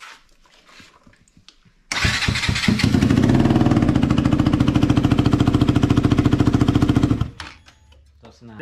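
A crashed KTM RC motorcycle with a broken engine chamber starts after a short stretch of quiet, then runs with a loud, steady rapid beat for about five seconds. It cuts off abruptly, and only faint background noise is left.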